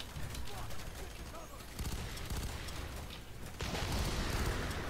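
Rapid gunfire rattles through a firefight in the shooter game Fear 3, with dense, loud overlapping bursts and heavy low impacts filling the whole stretch while players' voices talk beneath the shooting.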